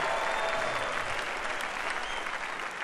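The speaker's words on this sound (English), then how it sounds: "give him a shout and a hand clap of praise" A church congregation breaks into sustained hand-clapping praise during a sermon, a dense, steady wash of applause filling the room at moderate volume without letting up.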